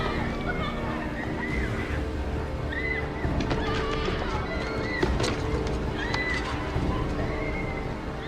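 A horse aboard a ship neighs and whinnies several times over a steady low rumble of the vessel, with faint hooves and background voices murmuring.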